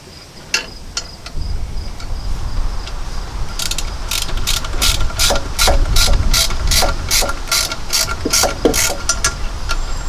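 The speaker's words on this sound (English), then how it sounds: "All the bolts are lining up and threading right in." A ratchet wrench clicks in a rapid, even run as bolts are threaded into the exhaust manifold of a 1995 Ford F250, with a few scattered clicks first, then a long steady burst close by.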